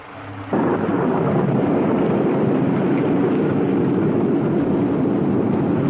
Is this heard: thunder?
yes